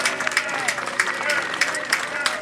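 Outdoor crowd applause at the Shrinefest gathering for the Shriners and their temple, moderate clapping mixed with crowd noise and a voice speaking over it.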